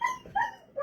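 A dog whimpers in a few short, high, whiny bursts with small yips mixed in, close by and fairly clear, with no talk over it.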